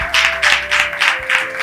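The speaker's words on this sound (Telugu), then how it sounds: "చప్పట్లు కొడుతూ ప్రభుని" A church congregation claps in praise. The claps come as loud, rhythmic bursts of hands striking together, about five in under two seconds, over a steady held tone.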